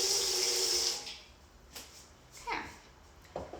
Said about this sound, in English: I'm gonna fill up with water.